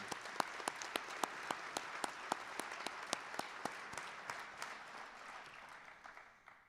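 A crowd at a high school awards ceremony applauding steadily, with dense clapping and a few louder individual claps standing out, fading slightly toward the end.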